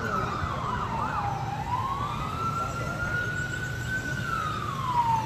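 Police escort cars lead a motorcade with wailing sirens, a loud rising and falling tone sweeping steadily over rumbling road traffic.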